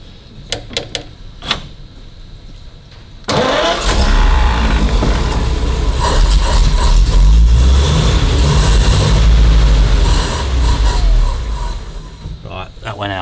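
Clicking and ticking give way to a 1930 Packard 733 Victoria Coupe engine that cranks and catches, roaring loudly for several seconds before stalling and dying away, with voices talking faintly around it.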